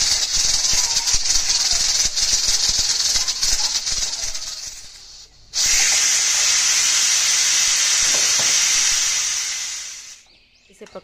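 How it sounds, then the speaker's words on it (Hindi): Beef karahi cooks in a sealed pressure cooker that vents a loud, steady hiss of steam, cutting out briefly midway before resuming and then fading near the end. "प्रेशर कुकर को बंद कर देना है और इसे 20 मिनट तक पकने देना है।"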